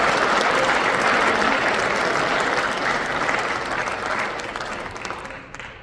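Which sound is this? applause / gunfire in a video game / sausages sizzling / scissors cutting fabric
applause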